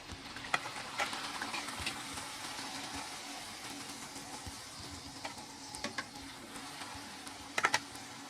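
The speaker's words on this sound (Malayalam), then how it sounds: "2 സൈഡും തിരിച്ചും മറിച്ചും ഇട്ട് നന്നായിട്ട് വറുത്തെടുക്കാം" Dal puri frying in hot oil, a soft continuous sizzle with scattered light crackles and a few sharper pops near the end, no talking.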